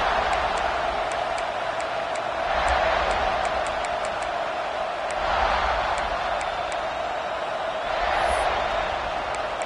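A stadium crowd at a football game roars in swelling waves, loud and continuous, rising to peaks about every two to three seconds as a broad wall of cheering.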